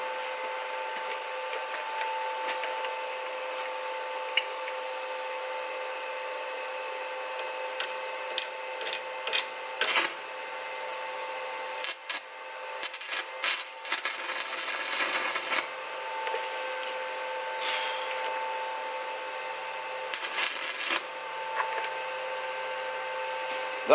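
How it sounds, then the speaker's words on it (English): Micro welding building up a Lambretta scooter gear change part with a welding rod: a steady electrical whine and hum punctuated by irregular crackling, sputtering bursts, close and fairly loud, with no speech. "we've got to build it up first with some weld"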